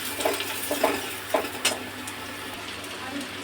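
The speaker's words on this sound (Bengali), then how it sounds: "কেটে রাখা বেগুনগুলোও দিয়ে দিলাম, একটু বেগুনটাকে ভেজে নেবো।" Sliced eggplant frying in a pan, giving a soft steady sizzle with a few sharp clinks of a spatula against the pan spaced through the first two seconds, close and moderately quiet.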